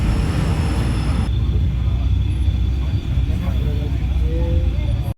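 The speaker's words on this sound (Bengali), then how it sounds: "নিচ দিয়ে সাঁতরাগাছির দিকে টুয়ার্ডস হাওড়া থেকে ট্রেন আসছে" A train passing below the Santragachi flyover near Howrah, heard as a loud, steady rumbling roar from a moving vehicle above, with traffic noise blending in throughout.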